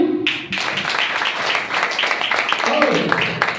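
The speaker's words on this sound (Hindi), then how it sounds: "जोरदार ताली" A seminar audience in Ahmedabad breaks into loud, sustained applause, dense clapping that fills several seconds with a talking voice carrying over it.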